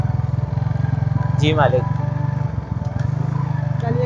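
A motorcycle with a flat tire idles steadily with a low, even engine rumble throughout, while people talk over it.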